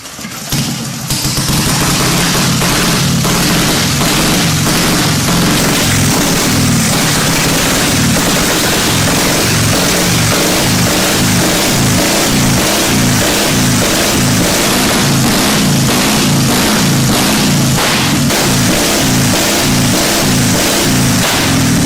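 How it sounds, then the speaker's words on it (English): An old, already warm vintage motorcycle engine, choke off and decompressed, kicks over and settles into a loud, steady, chugging run with a rapid regular thump, close by and continuous. "take the choke off because the bike's already warm, decompress the engine"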